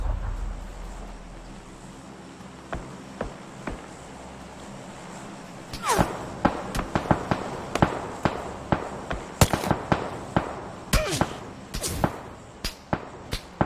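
Gunfire from PlayerUnknown's Battlegrounds: after a quiet stretch, sharp shots crack out one by one, then come in rapid irregular bursts, loud and close, over a steady low game ambience.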